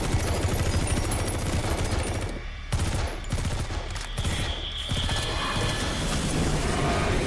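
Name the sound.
gunfire in video game Metal Gear Solid V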